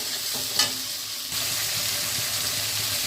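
Fish curry with hog plums, salt and turmeric being stirred in a pan, a steady sizzle and scraping with brief louder clinks, close and continuous without talk.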